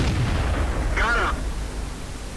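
Tank guns in World of Tanks fire together in a heavy booming volley with rumbling low-end and a brief whooshing tail, set against continuous battle ambience.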